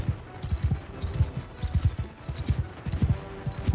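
Horse hooves clip-clop in a steady galloping rhythm during a castle siege in the video game Bannerlord, close and prominent with faint battle noise behind.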